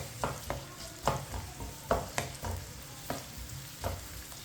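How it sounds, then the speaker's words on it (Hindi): Chopped onions frying in half a cup of oil, stirred with a spoon in steady strokes; a soft sizzle sits underneath while sharp scraping clicks land roughly every half second, close and fairly quiet, with no one talking. "प्याजों को मैंने मिक्स कर लिया है।"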